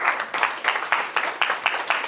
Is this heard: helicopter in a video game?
no